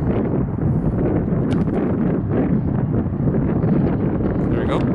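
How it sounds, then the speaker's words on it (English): Strong wind gusting left to right across an outdoor football field during field goal practice, a steady loud roar buffeting the microphone throughout with no break. "Strong wind going left to right."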